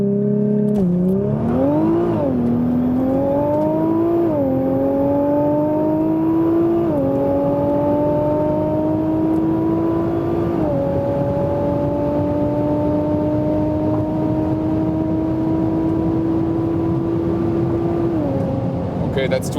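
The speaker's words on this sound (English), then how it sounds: "You are allowed to preload the RPMs, and then it's controlling the fastest launch." A 570 hp facelift Nissan GT-R launches under launch control and accelerates hard on the Autobahn, its engine note climbing through several gear shifts in a loud, sustained roar heard from inside the cabin.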